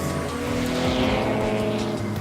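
A Ferrari F12 TDF driven hard on a race track, its engine roaring loud and close as it revs without a break, with a hint of tyre squeal underneath.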